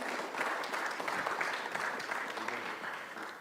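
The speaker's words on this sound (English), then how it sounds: "A round of applause, please." An audience at a field presentation session applauds with steady, sustained clapping that fills the whole stretch at moderate volume, evenly spread with no talk over it.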